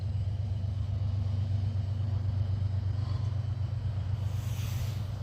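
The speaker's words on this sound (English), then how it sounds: "Alright, he's pulling now. I can hear him in throttle." A freight train locomotive works under throttle hauling up a grade, heard as a steady, distant low rumble with a faint engine drone, unbroken throughout with no voices.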